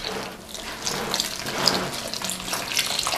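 Warm water pours slowly and steadily into a bowl for cheap homemade bread dough, a continuous close splashing trickle with no speech over it.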